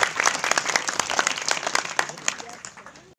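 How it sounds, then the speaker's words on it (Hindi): An audience at a village school ceremony at an intermediate college in Almora claps steadily, a dense round of applause that stays fairly even before cutting off abruptly at the end. "जरा तालियां बजाइए"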